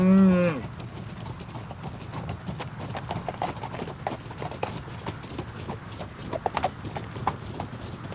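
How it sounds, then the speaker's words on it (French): Horses' hooves clip-clop steadily on the ground during a 90 km endurance ride, a brisk continuous rhythm of many hoofbeats at moderate distance, with a brief horse call at the start. "un parcours balisé de 90 km de long que les chevaux doivent parcourir"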